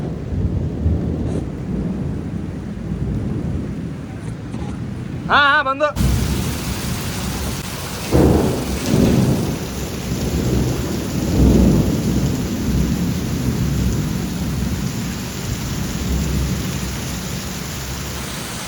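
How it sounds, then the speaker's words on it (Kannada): Heavy rain pours down steadily in a loud, close wash, with deep thunder rumbling through it and a brief voice speaking near the start. "ಮಳೆರಾಯನ ಅಬ್ಬರ"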